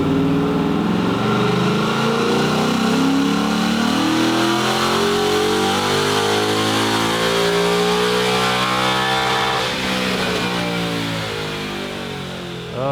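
A 2018+ Ford Mustang with a Stage-2 naturally aspirated engine package revs hard on a chassis dyno. The loud, sustained engine note climbs steadily in pitch through a long pull, then eases off near the end.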